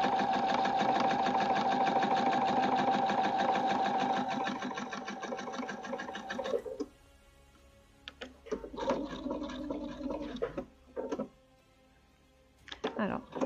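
A sewing machine stitches a seam on a Petit Patron Charlotte dress waistband, running in a fast, steady whir for several seconds before stopping. Short bursts of stitching and handling noises follow, with a voice speaking between them.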